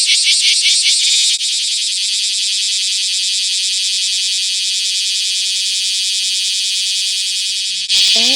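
Cicadas in Japan, a loud, dense, unbroken shrill buzz with a fast pulsing texture that fills almost the whole stretch before cutting off abruptly near the end.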